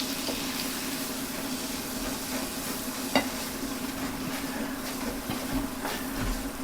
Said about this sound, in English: And I'm going to go ahead and make a roux.